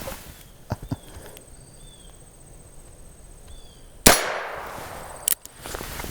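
A Heritage revolver with a 16-inch barrel fires once outdoors during speed testing: a single sharp, loud report with a short decaying tail, set among quieter clicks and handling noises.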